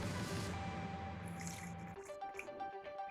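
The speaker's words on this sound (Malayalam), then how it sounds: "ഞാനൊരു 2 കപ്പ് ചൂടുവെള്ളം ഒഴിച്ച് കൊടുത്തിട്ടുണ്ട്." Two cups of hot water pour from a mixer bowl into a roasted-coconut chicken curry, a soft, steady stream that trails off into faint close drips and trickles.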